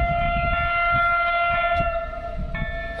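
A train passes a level crossing in Jawor, its rumbling low-end steady for the whole stretch, while the crossing's warning signal rings on as a continuous high tone above it.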